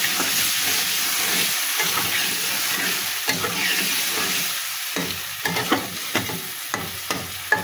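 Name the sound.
vegetables sautéing with spices in a pan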